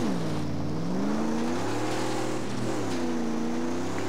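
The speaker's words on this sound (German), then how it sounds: "Es ist ein komischer Soundglitch im Auto und dann schmiert die Karre ab." In the Mad Max video game, a car's engine tone glitches into a wavering, warbling drone that bends up and down repeatedly while the vehicle slides off the road, steady in loudness and with no talk.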